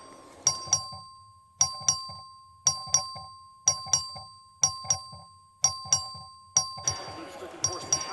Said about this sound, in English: The clerk ring the bell.